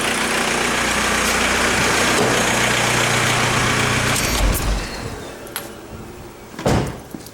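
The VW TDI diesel engine idles as a loud, steady broadband rumble, then gets quieter when it is switched off. A sharp close clunk follows.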